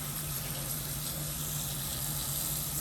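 Tap water runs steadily onto green onions in a kitchen sink, a constant close hiss and splash at fairly loud level, unbroken and without talk.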